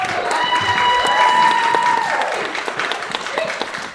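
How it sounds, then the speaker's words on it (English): A convention crowd applauding in a sustained round of clapping, fairly loud, with a steady tone ringing through it before the clapping thins out. "A round of applause."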